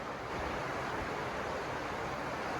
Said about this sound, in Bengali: বাহিরে সুন্দর বৃষ্টি হইতেছে